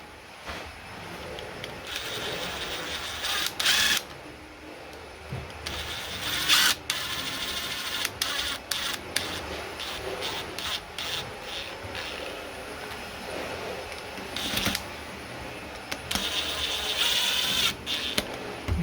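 Screws driven into the motor brush holder of a Hoover HWB814DN1 washing machine, with scraping, clicking turns and ratcheting rubs close by, in uneven bursts over a faint background hiss.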